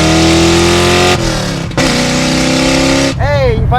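A Ford Fox Body Mustang GT with a 5-liter V8 revs loud and close, its throaty roar holding steady, dipping briefly, then surging again before the engine falls away near the end.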